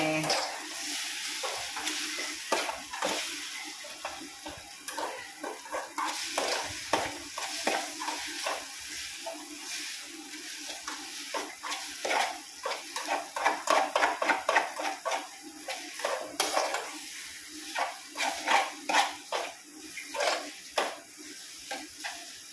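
Ampalaya stir-fry being stirred in a frying pan, with faint sizzling beneath a long series of scraping, clinking strokes of the utensil against the pan that grow quicker and louder midway.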